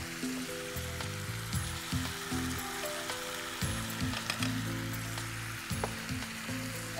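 Pulao sizzles and crackles steadily in a pan while being stirred, a close, continuous frying hiss with scraping under faint tonal background sounds.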